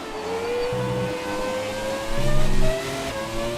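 An F1 car braking hard into a corner in the racing game F1 Championship Season, its engine whine sliding down in pitch through the downshifts and then revving up again, loud and close.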